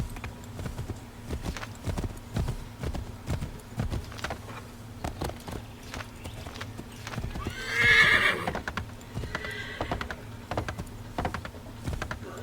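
A video game horse whinnies clearly over steady hoof clip-clops and a rhythmic patter, with a faint hum underneath.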